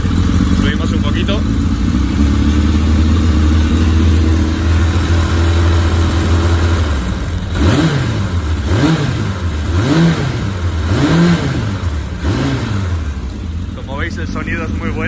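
A Suzuki GSXR 1100 motorcycle engine is blipped from idle: a steady rumble for several seconds, then a run of four or five rising and falling throttle revs, close and loud, settling back toward idle.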